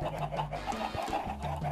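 Chickens in the video game Minecraft cluck repeatedly in short, close, fairly loud bursts over a steady low hum, with overlapping calls throughout.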